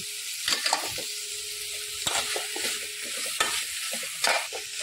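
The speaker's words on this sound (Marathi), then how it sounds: "आता टाकणार आहोत आपण कोलंबी।" Prawns are added to a sizzling Agri-Koli style curry masala and stirred in, with a steady frying hiss and close spatula scrapes against the pan coming in several distinct bursts.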